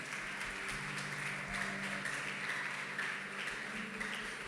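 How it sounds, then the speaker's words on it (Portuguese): A church congregation applauding during a sermon, a steady wash of clapping from a crowd at some distance that stays even throughout, with faint murmuring beneath it. "Aplauda o Senhor, irmãos, por essa palavra."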